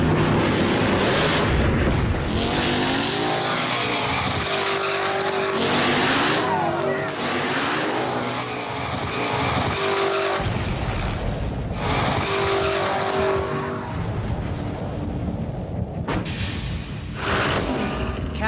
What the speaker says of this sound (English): Just as I start to shift into second, transmission blows up.